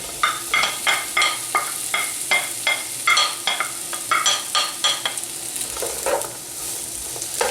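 Lengthways-sliced onions fry in hot oil for a Goan pork vindaloo, with a constant sizzle under a rhythmic run of sharp spoon scrapes and taps that repeat roughly twice a second before easing off.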